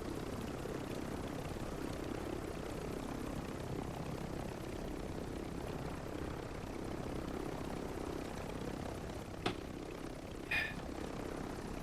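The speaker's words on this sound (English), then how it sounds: "This moron is still flying around in the heli." Helicopter flying in Call of Duty: Modern Warfare III Warzone: a quiet, continuous engine-and-rotor drone that stays steady throughout, with two brief sharp clicks near the end.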